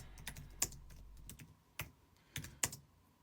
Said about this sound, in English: I'm just typing it into Google.